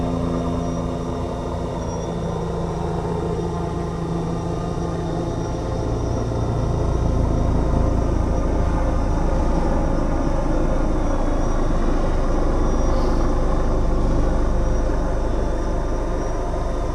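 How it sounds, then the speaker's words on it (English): The motor of a police boat drones steadily on the water near Fort Totten, swelling louder as it approaches, with no talk heard. "And that's a police boat coming."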